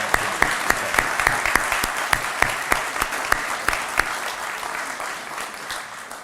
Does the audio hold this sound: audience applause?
yes